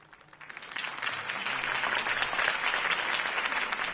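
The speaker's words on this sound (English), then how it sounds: "If only Mr. Wayne, my campaign's largest backer, could have heard that applause" Applause from a large crowd in a video game swells in after a quiet start and holds at a full, steady roar of clapping.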